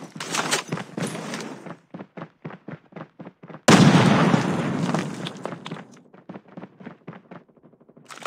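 Grenade blast and gunfire in the Call of Duty Mobile shooter game: a string of sharp shots, then one loud booming burst that dies away slowly before more scattered shots, with no talking.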